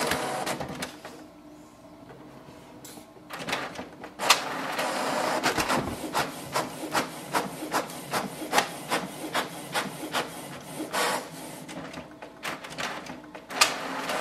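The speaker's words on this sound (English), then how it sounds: "Printer is working and it has started to print." A Canon Pixma TR7620a inkjet printer prints a document nearby, giving a long run of mechanical whirring and rubbing with a regular series of short pulsing strokes as the paper feeds.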